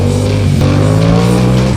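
Motorcycle rear wheel spinning up on a slick, slippery surface, a loud sustained engine whine with rising tonal pitch and tire-scrub hiss, close and continuous.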